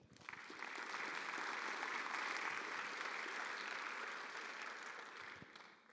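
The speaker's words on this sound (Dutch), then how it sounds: "geeft ze haar ook een hartelijk applaus" A symposium audience at a university claps warmly for about five seconds, swelling quickly to a steady, fairly soft and distant wash of applause, then easing away.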